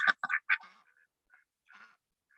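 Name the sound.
farm ducks quacking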